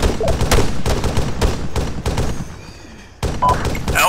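Gunfire in the military video game Arma 3: loud, dense rapid shots in bursts that pause briefly, then resume with more shots.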